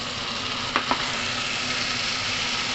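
Tomatoes being stirred into long green beans frying in a pan, with a steady close sizzle and two quick utensil scrapes early on.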